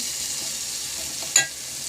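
Tempering spices with crushed garlic and tomatoes sizzle in a hot pan with a constant crackling hiss, broken once by a short, sharp clink partway through.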